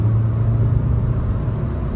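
Kia Sonet engine droning steadily from inside the cabin while downshifting on the paddle shifters, a low continuous rumble and whir with no clear rev spike, constant and fairly loud throughout.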